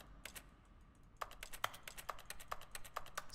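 Crisp keyboard taps from The Stanley Parable: Ultra Deluxe, a quick irregular run of clicky keystrokes, close and clear with a faint hum behind.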